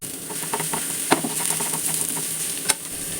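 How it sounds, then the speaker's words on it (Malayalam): Chilli garlic sauce is spread over a masala dosa on a hot pan, giving a continuous close sizzle with soft scraping and a couple of sharp clicks from the utensil against the pan. "ഗാർലിക് സോസ് ഒന്ന് സ്പ്രെഡ് ചെയ്ത് കൊടുക്കുക"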